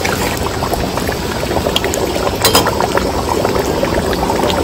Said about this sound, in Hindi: अब इसमें पानी डाल चावल डाल।